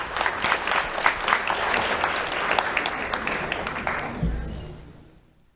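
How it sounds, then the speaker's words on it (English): An awards-ceremony audience gives a round of applause, dense clapping that holds steady and then fades out to near silence. "Round of applause for Magdalena and Lucas Gerald."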